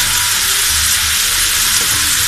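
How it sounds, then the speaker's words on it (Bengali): Pumpkin and egg fry in a pan while being stirred, giving a steady bright sizzle with soft scraping underneath, close and loud throughout with no talking. "আমি সুন্দর করে আবারও নেড়ে দিচ্ছি।"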